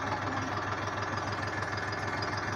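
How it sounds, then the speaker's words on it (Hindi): A tractor engine runs steadily while pulling a plough through a farm field, a continuous knocking diesel throb at moderate distance with no voices over it. "जैसे जैसे मैंने ऊपर उठाया, मेरा ट्रैक्टर आगे बढ़ गया है और पीछे से हकाई चालू हो गई है।"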